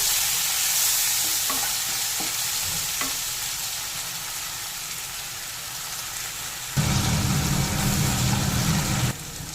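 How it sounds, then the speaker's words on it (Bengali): Chopped onion and tomato fry in a pan with salt for a fish jhal, a steady hiss with scraping stir strokes, swelling to a louder, denser sizzle near the end before easing off. "এবার পেঁয়াজ আর টমেটোটা সামান্য একটু ভেজে নেব"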